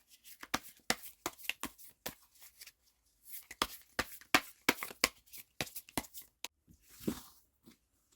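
Tarot cards are shuffled close by in quiet surroundings, making bursts of quick papery snaps and riffles in irregular clusters with brief pauses between them and no talking.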